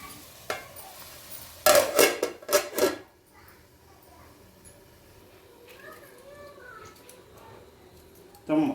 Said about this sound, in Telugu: దీన్ని మూత పెట్టేసి వదిలేసేయాలి